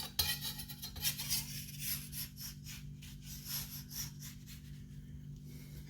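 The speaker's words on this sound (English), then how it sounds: "We'll use our trusty palette knife, and it's got flour under there as well" A palette knife scrapes under floured pastry to lift a chicken and leek pasty, a quiet scratchy rubbing in short repeated strokes, close to the microphone.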